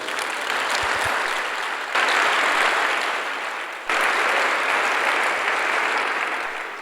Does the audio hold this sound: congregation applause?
yes